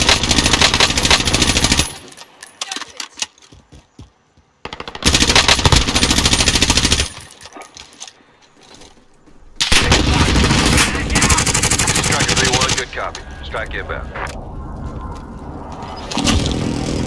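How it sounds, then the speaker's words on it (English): Bursts of rapid automatic gunfire and heavy shooting in a Call of Duty: Warzone battle royale match, loud and dense, broken by short quieter gaps with scattered shots and engine rumble. "Taking fire!"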